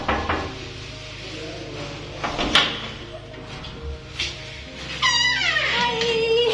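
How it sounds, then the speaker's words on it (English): Someone knocks on the door of a house in Kenya: a few separate raps spaced over several seconds, with other household sounds and a voice breaking in toward the end. "So let's knock."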